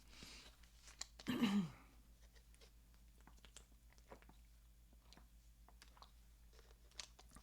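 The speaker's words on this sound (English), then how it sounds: "I gotta take a sip of water" A single quiet slurping sip around the start, followed by soft swallowing and small mouth sounds in an otherwise hushed room.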